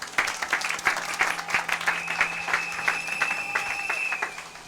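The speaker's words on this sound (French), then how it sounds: "Acclamez pour la gloire de notre Dieu." Church congregation applauding during a worship service, a steady burst of rhythmic clapping with faint cheering, fairly close and sustained throughout.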